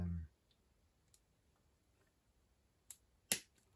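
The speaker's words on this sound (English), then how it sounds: "I'm using the rail cutters cut up to that." Rail cutters snip through code 40 bullhead model railway rail for an N gauge British finescale turnout, giving two sharp, close clicks near the end after a brief low thump at the start, with otherwise quiet surroundings.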